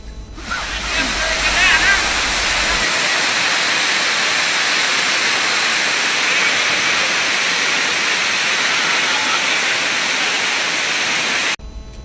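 Monsoon-season waterfalls in the Nallamala forest of Kurnool district pour with a loud, steady, close roar of rushing water that fills the whole stretch with broadband noise and never pauses.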